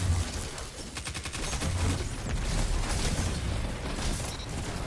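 Golden Gun shots in the video game Destiny 2 crack out in a rapid burst amid busy gunfire and mechanical effects, loud and continuous over the short span.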